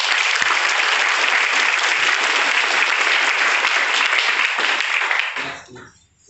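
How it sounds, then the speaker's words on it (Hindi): Audience applause in a hall during a Hindi business-plan presentation, steady dense clapping from many hands throughout, then fading out near the end. "तो जितना मजा आएगा उतनी तालियां भी हो जाए।"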